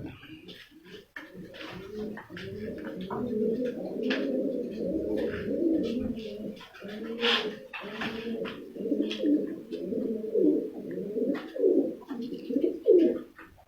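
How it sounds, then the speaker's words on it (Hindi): Teddy pigeons cooing close by, a dense run of soft throaty coos that overlap and pulse continuously, with faint chirps above. "राजा इफ्तिखार काका के घर का 16 नंबर टेडी कबूतर।"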